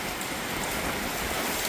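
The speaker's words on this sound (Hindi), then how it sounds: "आप देखें कितनी तेज बारिश हो रही है।" Heavy rain pouring down in a steady, dense hiss of drops striking surfaces, loud and continuous with no talk.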